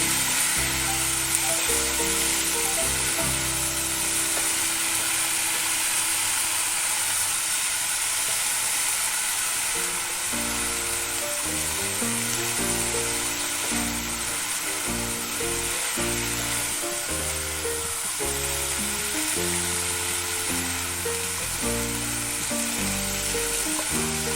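Drumstick flowers sizzle hard in a hot pan while being sautéed, a loud continuous frying hiss with a rhythmic clatter of stirring running through it.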